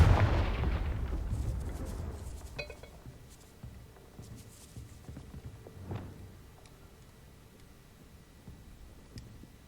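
In the video game Hogwarts Legacy, a Confringo spell explosion hits with a loud booming blast that rumbles and fades over several seconds, followed by faint scattered debris and clatter.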